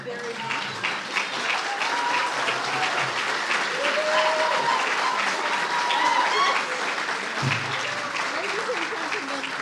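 Steady, dense applause from an audience at a mayoral candidates forum goes on for about ten seconds and fills the room evenly, with a few faint voices mixed in underneath.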